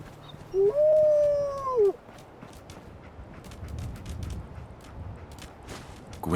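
Dogmeat, the dog companion in Fallout 4, lets out a single whining howl, rising then falling, followed by soft snuffling amid quiet game ambience.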